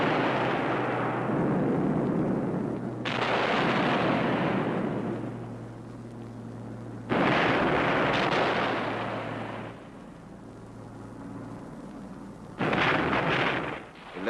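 Heavy bombing over Cassino in World War II: deep, rumbling explosions burst in several waves, each swelling loud then decaying into a long roar, distant and booming with no voices.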